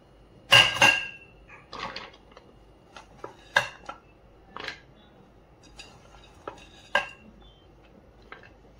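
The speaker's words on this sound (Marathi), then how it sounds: "आता हे सुद्धा याच्यामध्ये चॉपिंग करून घेते थोडंसं।" Eggplant bharit mixture being chopped with a utensil in a pan, giving irregular metallic clinks and scrapes: one loud clatter near the start, then scattered lighter taps and knocks at close range.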